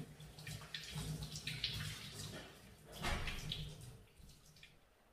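Running tap water splashes softly while hands are washed before cooking lamb chops, a faint close hiss with two brief louder swells.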